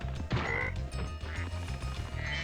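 Croaking frog enemies in Spyro 2: Gateway to Glimmer (challenge mode mod), a few cartoonish croaks over busy, steady game music and effects.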